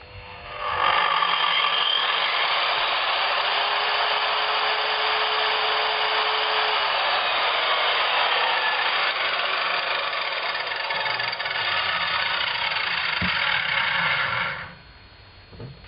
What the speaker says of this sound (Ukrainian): Спробуємо, чи в нас немає нічого, е, якоїсь вібрації в нашій пилі